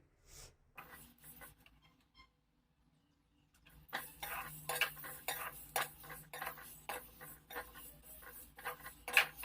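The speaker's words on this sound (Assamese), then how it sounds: "কম জুইত মছলাখিনি অলপ সময় ভাজিম" Spices dry-roasting in a wok over low heat, with no oil used, for a sweet jujube pickle: faint at first, then a steady run of close metallic scraping and stirring strokes.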